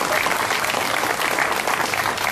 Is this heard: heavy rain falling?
no